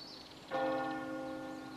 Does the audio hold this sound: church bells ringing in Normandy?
yes